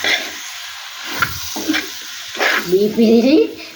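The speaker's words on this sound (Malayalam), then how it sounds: "ഇനി ഈ ബീഫ് ഇതിൽ വഴറ്റും" Beef sautéing in a pan as it is stirred, a soft sizzle with scraping and stirring bursts, louder toward the end, with a voice speaking briefly over it.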